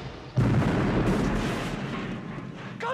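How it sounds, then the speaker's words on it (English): A bomb blast in a video game bursts in suddenly as a loud, heavy boom and rolls on as a sustained rumbling roar for a few seconds. "Did I just chuck a bomb in there?"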